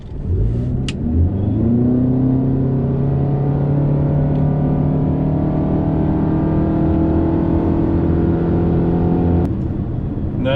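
An SUV accelerating hard at full throttle in sport mode gives a loud, continuous engine roar whose pitch climbs steadily through the run, dropping off near the end.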